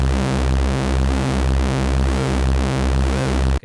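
IK Multimedia UNO Synth Pro analog synthesizer playing a repeating sequenced pattern of notes while an LFO modulates the tune of oscillator 3, adding a fast wobbling pitch layer over the steady bassline, loud and alone.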